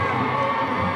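A crowd at a 2018 CrossFit East Regional men's event cheers and shouts in one continuous, loud, brief roar.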